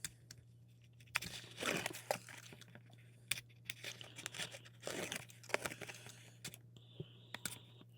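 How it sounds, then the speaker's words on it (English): Paper backings peeled off with a pick tool during card making give soft, irregular tearing and crinkling rustles, close and quiet, in short bursts over several seconds. "we'll use our Take Your Pick tool to pull these paper backings off"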